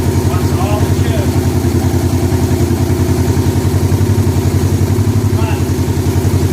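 A 1985 Honda Gold Wing GL1200 Aspencade motorcycle, a barn find that sat for 28 years, struggling to start: a loud, close, rhythmic engine chug with a clattering pulse that holds steady throughout.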